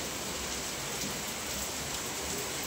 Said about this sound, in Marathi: भरपूर जोरात पाऊस पडतोय.